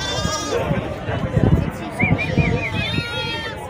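Sheep bleat repeatedly at a goat and sheep fair in Sumé, Paraíba, Brazil, close wavering calls over a busy background of people talking and livestock movement.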